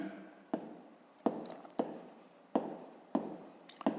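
Pen strokes scratch across paper while a maths answer for a fifth-grade exercise is written out, six short bursts of writing in an even rhythm, close and fairly quiet, with no talking.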